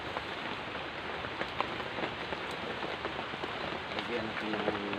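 Rain falls steadily onto a collapsed roof, a dense patter of drops with occasional louder drips, moderately quiet and continuous, with faint voices in the background.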